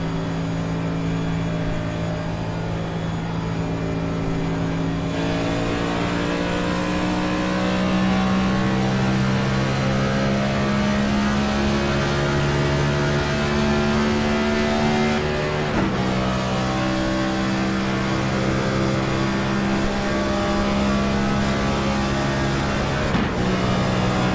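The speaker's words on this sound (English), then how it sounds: "He's keeping the tires and engine cool there on that race car." A race car engine at Daytona revs continuously and loudly, the pitch climbing and falling through gear changes with a few abrupt shifts, no talk over it.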